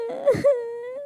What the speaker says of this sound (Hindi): छोटी मासूम गुड़िया की रोने की आवाज दूर तक जा रही थी।